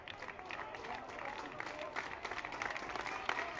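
Crowd at a high school baseball game making noise, a busy mix of cheering and clapping from the stands, moderately distant, with some commentary-like voices underneath.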